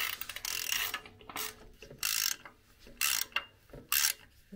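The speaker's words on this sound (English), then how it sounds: "Now by screwing this top bolt," A tool ratchets repeatedly while tightening the top bolt that tensions the belt on a T7DESIGN electric water plate kit mk2, making short clicking bursts in an uneven rhythm, close and clear with no talk.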